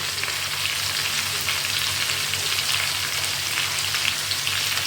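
Cauliflower pieces fry in hot oil in a pan with sambar spice powder and salt, giving a close, steady sizzle with soft scraping as they are stirred, continuous and without talking.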